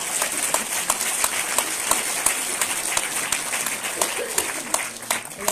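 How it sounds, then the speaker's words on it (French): Audience applause at a musical comedy festival: steady, dense clapping that fills the whole stretch, with voices mixed in beneath it. "Donc on peut l'applaudir."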